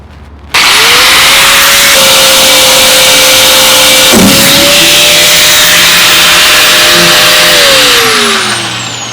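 A U-bolt on an M1028 CUCV (K30) is cut with a power tool, a loud steady high whine with a sharp pop midway as the bolt lets go under pressure, then the tool winds down.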